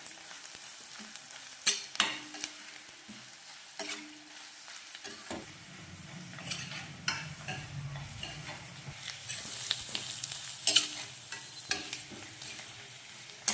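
Garlic, onions, curry leaves and dried red chillies fry in oil, a continuous crackling sizzle punctuated by clanks and scrapes of a stirring spoon, close and fairly loud, no voices.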